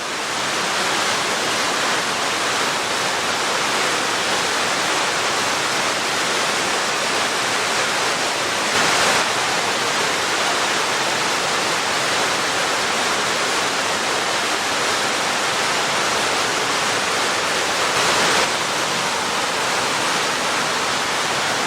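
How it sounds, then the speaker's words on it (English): Waterfalls in the Watkins Glen gorge roar in a loud, constant wash of rushing water that stays even for over twenty seconds, with no voices. "So many waterfalls"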